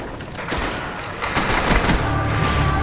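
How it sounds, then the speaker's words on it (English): An M14 rifle fires a rapid series of sharp shots, loud and close, with echoes that blend into a dense crackling barrage. "Now once you fire that round, there's no going back"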